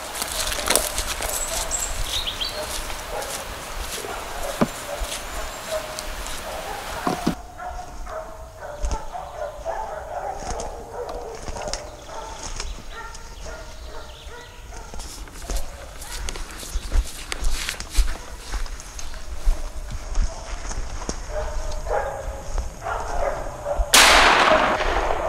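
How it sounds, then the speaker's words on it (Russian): Hunting dogs barking somewhere ahead in a forest during a bear hunt, distant intermittent barks mixed with close footsteps and brush noise, with a sharp burst near the end. "И где-то работают собаки впереди"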